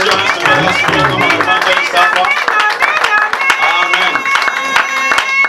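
A church congregation at a deliverance and healing service claps rhythmically and cheers in acclaim of the Lord, a dense crowd of hands and voices, close and loud throughout.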